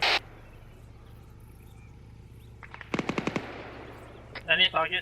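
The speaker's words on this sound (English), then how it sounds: "I'm getting shot at" Gunfire in the military shooter game Arma 3: a rapid burst of about six automatic shots rings out sharply over quiet ambient noise. A voice and further noise come in briefly just after.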